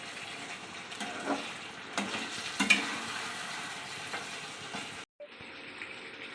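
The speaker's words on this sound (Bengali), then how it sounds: "এটা দই দিয়ে ভালো করে, যে মশলাটা করেছিলাম ওইটা রেখে দিয়েছিলাম, ওইটা দিয়ে এখন ভালো করে মিশিয়ে নেব।" Yogurt and a reserved spice paste being mixed into chicken curry in a pan for lemon chicken curry, a moderate sizzle under irregular wet scraping and stirring strokes, ending with a brief cut of silence, no voices.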